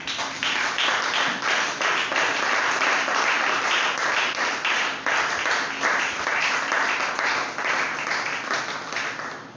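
A church congregation claps and acclaims the Lord during a sermon, loud sustained applause from many people with a brisk, slightly rhythmic clapping texture that swells and then eases toward the end.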